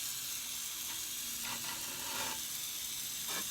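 A steady, loud hiss of a jeweler's torch flame heating silver for sand casting roars continuously, with brief crackling flares rising and falling.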